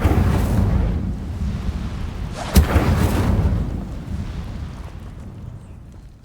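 A fire spell cast in Hogwarts Legacy erupts as a loud, roaring blast with one sharp crack partway through, then a rumbling burn that fades slowly.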